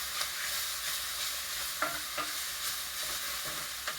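Pepper puree being stirred together in a pan with the heat turned off, a soft continuous scraping and swishing with a few brief clicks of the utensil against the pan, close and fairly quiet.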